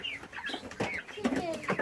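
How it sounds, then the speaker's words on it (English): Backyard chickens give scattered short clucks and squawky calls nearby, a few sharp bursts spaced through the stretch, with no talk over them. "Yeah, chicken."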